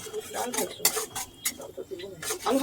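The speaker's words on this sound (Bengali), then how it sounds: "এবার ওই কড়াইয়ের মধ্যে হাফ কাপ মতন মুগ ডাল সেটাকে নিয়ে ভালো করে ভেজে নেওয়া হচ্ছে" Mung dal is stir-fried in a wok with a metal spoon, giving a run of scraping, clattering strokes against the pan in uneven bursts. A faint sizzle sits underneath.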